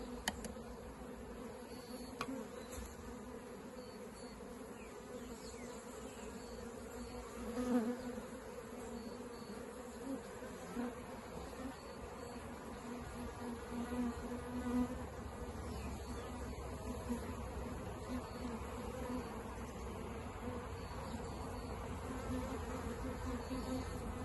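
A swarm of honeybees hums steadily and densely while being moved into a hive, a continuous close buzzing drone with small swells throughout.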